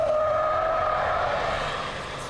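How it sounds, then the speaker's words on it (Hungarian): A large car on winter tyres, a Ford Mondeo 2.0 diesel or Opel Insignia 2.0 4x4 on a lap-timing run, sliding on all four wheels out of a corner with loud sustained tyre squeal over engine drone. "4 kerékkel csúszva gyorsított ki a kanyarból."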